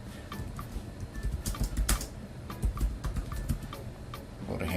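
Typing a phrase on a computer keyboard while working in Inkscape, a quick irregular run of close, crisp key clicks with a few louder strikes, no voices.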